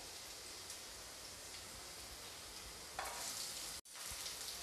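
Onion and garlic fry in a pan for street-style veg noodles, a soft, even sizzle that hisses steadily, swells slightly near the end and breaks off for a split second.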